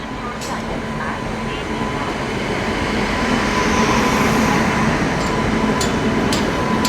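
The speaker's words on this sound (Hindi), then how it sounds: "कोटा जंक्शन के प्लेटफॉर्म नंबर 4 पर अपनी कोटा पटना एक्सप्रेस आ गई है। WAP 7 लोकोमोटिव लगा है भिलाई शेड का।" At a station platform, the Kota Patna Express hauled by a WAP 7 electric locomotive gives off a loud, steady rumble and hum, with a few sharp clanks on top.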